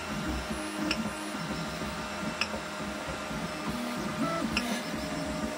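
Mixing 3D printer working while blending two filaments during a print, giving a steady motor hum with warbling stepper tones and faint periodic ticks, close and continuous with no talk.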